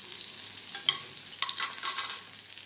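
Green chili and finely chopped garlic fry in oil with panch phoron, a close, crisp sizzle broken by quick spatula scrapes and light clatter against the pan.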